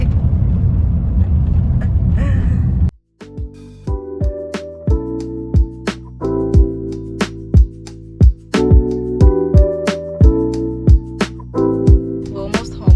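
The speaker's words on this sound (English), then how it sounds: "My sister is driving us home." Steady road rumble fills a car on the drive home for about three seconds. It then stops abruptly and is replaced by music with sharp rhythmic beats.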